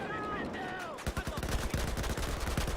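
AK-12 rifle in Battlefield 4 on Siege of Shanghai, team deathmatch: a burst of rapid automatic gunfire, sharp evenly spaced shots rattling for about two seconds after a short lull of game ambience.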